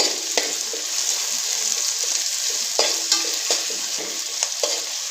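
Onions and curry leaves fry in a pan with a continuous soft sizzle, broken by several sharp scraping stirs of a spoon against the pan, heard close up with no talking.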